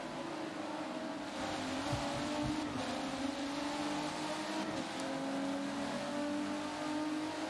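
Race cars lapping Watkins Glen in a racing video game, a steady engine drone with rising and falling pitch as cars pass, holding at a moderate level throughout with no pauses.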